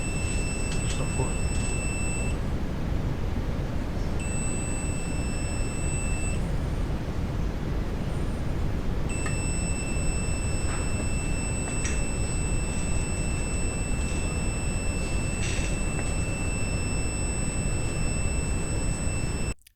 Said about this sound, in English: as soon as we move the float to the highest point, a buzzer can be heard